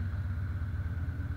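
A 2011 Harley-Davidson Dyna Super Glide engine runs at a steady idle, giving a close, continuous low rumble with an even pulsing beat and no voices.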